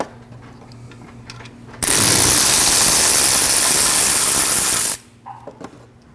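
A power driver or impact tool spins out the right-side screw during a clutch install on a Mazda RX-7 FD3S, a loud steady whirring burst of about three seconds standing alone between quieter workshop pauses.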